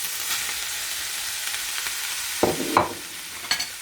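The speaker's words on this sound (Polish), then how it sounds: "Mieszamy to przez jakiś czas, dopóki warzywa nie zrobią się leciutko miękkie, aż to się wszystko ładnie przesmaży" Vegetables and beef fry in a pan with a steady soft sizzle, broken by a few close scraping stirs of a utensil against the pan toward the end; no one speaks.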